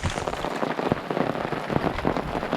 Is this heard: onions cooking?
no